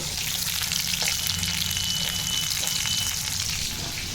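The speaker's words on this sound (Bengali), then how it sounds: "চিকেন ড্রাই ফ্রাই করছে, দেখাই তোমাদের।" Chicken dry fry crackles and sizzles in a pan with a dense, constant hiss and occasional faint stirring clicks, close and continuous.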